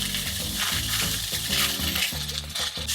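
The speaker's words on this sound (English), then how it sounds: "the fresh sausage has been cooking for about 5 minutes" Raw fresh sausage frying in a pan ahead of adding linguiça for a Portuguese francesinha, crackling and popping loudly up close in an uneven, busy sizzle throughout.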